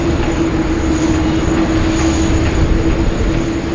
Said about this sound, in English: This is one of my favourites, the Airbus A350 carbon livery by China Airlines.